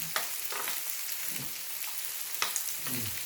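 Pork belly sizzles and fries steadily in a pan alongside mushrooms, a continuous crackling hiss with a few sharper pops and stirring clatters, close and fairly loud with no talking.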